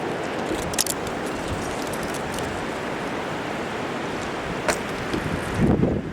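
Strong wind buffets a microphone outdoors on an exposed hilltop archery range, a constant loud rushing roar with a few sharper gusts and bumps, and no talking.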